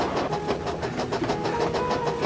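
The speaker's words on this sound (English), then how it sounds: "Another engine wheezed as Edward clanked into the station." A steady, rhythmic clanking and chuffing of a steam engine wheezing as it rolls into a station, with repeated regular beats and a dense mechanical hiss throughout.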